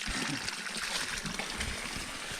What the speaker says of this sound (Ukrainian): Це відкритий кран.